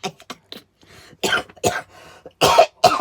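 Several sharp coughs in quick succession, close and fairly loud, with short gaps of quiet breathing between bursts.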